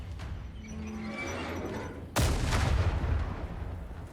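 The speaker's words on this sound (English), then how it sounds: "So let's call in an artillery strike and make those bastards pay for their crimes." An artillery strike lands in the video game Last Train Home: a sudden, loud, broadband blast about midway through, then a rumbling, crackling tail that rolls on to the end over a steady low in-game backdrop.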